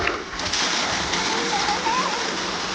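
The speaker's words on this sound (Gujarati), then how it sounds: "આ ચાલુ થઈ ગયો મોટર" Water splashing steadily from a just-started motor pump, a continuous dense spatter close by with faint chirping in the background.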